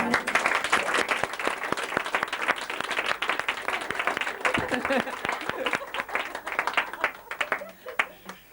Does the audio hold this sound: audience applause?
yes